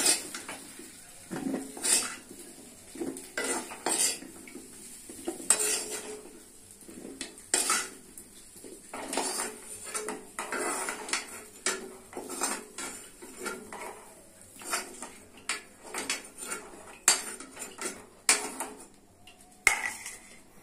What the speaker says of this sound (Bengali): কলা ভাজা হয়ে গেছে, তুলে দিচ্ছি